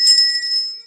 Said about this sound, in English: Let me ring my bigger bell